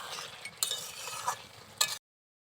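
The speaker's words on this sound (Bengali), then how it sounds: "এভাবে একটু ভালো করে কষিয়ে নিচ্ছি।" Desi chicken meat being stirred and sautéed in a pan for a picnic-style curry, a steady close sizzle with a few sharp clinks of a spoon against the pan, ending abruptly in silence after two seconds.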